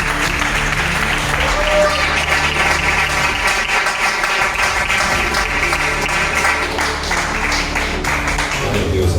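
Dense, sustained applause from a church congregation fills the room, loud and continuous throughout with no pauses, with voices faintly mixed into the clapping.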